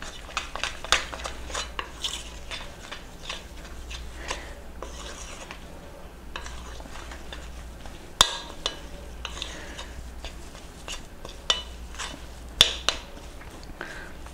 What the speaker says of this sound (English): then we mix these ingredients all together